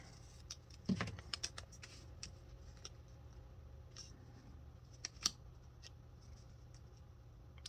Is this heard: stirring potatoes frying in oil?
no